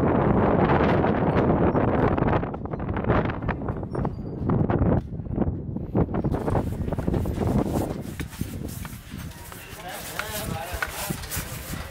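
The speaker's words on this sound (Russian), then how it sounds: "ветер поднялся не на шуточку" Strong wind gusts at an outdoor cross-country ski sprint race in Aldan, 2021, roaring and buffeting the microphone as a loud, steady rush with talk mixed in.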